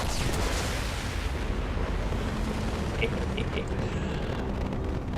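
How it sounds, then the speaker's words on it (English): Nuke explosion in the video game Mass Effect 2, a heavy rumbling roar of game combat and detonation that fills the whole stretch, with a few sharp electronic blips layered on top. "it's going to do the nuke explosion"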